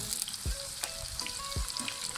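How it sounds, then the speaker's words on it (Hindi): Onions fry in hot ghee with a bright, steady sizzle, broken by a few short clacks of a utensil stirring in the pan; no voices. "घी गर्म हो चुका है। अब हम इसमें प्याज ऐड करेंगे। 1 से 2 मिनट के लिए आपने इसे फ्राई करना है।"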